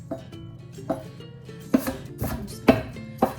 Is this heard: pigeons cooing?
no